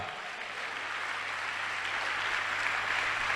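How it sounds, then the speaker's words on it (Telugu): Audience at a church sermon clapping loudly, a continuous dense wash of applause held steady throughout at some distance, with no speech over it. "కొట్టు చప్పట్ల గట్టిగా"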